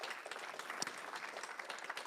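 A panel audience at a community investment event applauds, a steady wash of many hands clapping at moderate loudness throughout, with no one speaking over it.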